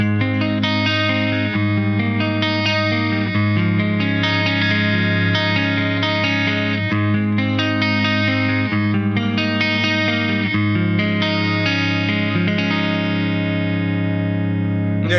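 A clean electric guitar, a Bill & Becky L500 XL with a Duncan 59 neck pickup, rings through a Peavey 5150 into Marshall cabinets, close-miked with a Sennheiser E906 and played without effects. Chords ring continuously and loudly throughout, with no talking.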